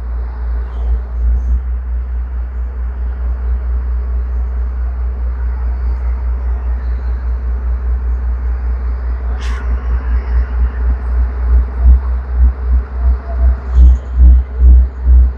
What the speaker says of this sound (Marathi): आता आवाज फुल ट्रेनचा असणार आहे